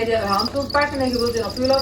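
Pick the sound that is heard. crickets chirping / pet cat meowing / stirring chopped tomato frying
crickets chirping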